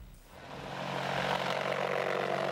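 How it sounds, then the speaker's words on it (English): A Eurocopter Tiger attack helicopter roars steadily, its engine and rotor noise swelling over the first second and then holding loud and continuous. "And here the European Tiger roar."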